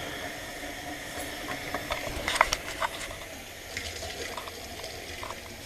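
Hot water runs from a newly replaced kitchen faucet, a steady faint hiss of flow with scattered clicks and rattles from the plumbing mixed in.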